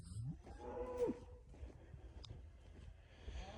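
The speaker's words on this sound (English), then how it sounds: "Oh, these freaking cows sometimes." A cow moos loudly once, a drawn-out low call near the start, followed by quieter rustling and faint outdoor noise.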